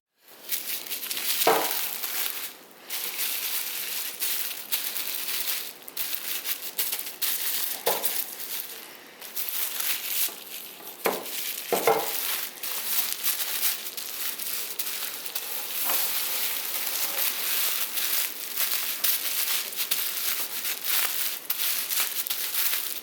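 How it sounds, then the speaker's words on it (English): Bubble wrap crinkling and crunching as it is smashed around a Becker BK7 knife blade coated in a forced-patina solution, a steady close crackling texture with a few sharper squeaks and pops throughout. "I start smashing it around with the bubble wrap"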